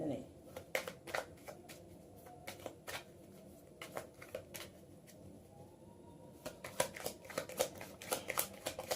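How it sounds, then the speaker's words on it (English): Tarot cards being shuffled close by, a series of quiet crisp riffles and flicks in irregular bursts, soft and near. "if you're not a fan of watching people shuffle on camera"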